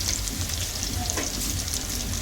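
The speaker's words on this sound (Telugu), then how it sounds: "కరివేపాకు, చూడండి మంచిగా ఫ్రై అయినాయి కదా" Curry leaves fry in a pan for chicken mandi biryani, a steady close crackling sizzle with faint stirring scrapes and no talk.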